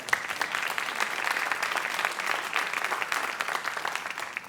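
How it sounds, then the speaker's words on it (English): Audience applause after a dance talk on The Sleeping Beauty, a dense, steady clatter of many hands filling the room at a moderate level with no voices over it. "You can clap."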